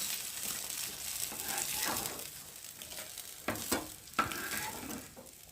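Fried fasa fish are lifted one by one from hot oil in a mustard fish recipe, a steady close sizzle broken by a few sharp scrapes and clicks of the utensil.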